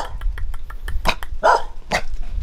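A dog on Phu Quy island barks in several sharp, loud bursts at close range, with low growling rumbling underneath.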